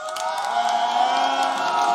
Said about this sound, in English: Montpellier, can you make some noise?